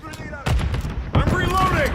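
Video game gunfire cracks out in two bursts of shots and booming impacts, loud and close, with a voice calling out over the battle noise.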